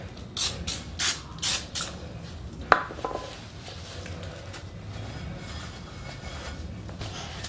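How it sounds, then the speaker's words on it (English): Anti-seize sprayed from an aerosol can onto the inside of a brake rotor: five short, sharp hissing bursts in quick succession, then a metallic clink and quiet handling noises, with no speech. "I'm going to spray a little anti-seize on the inside of the brake rotor"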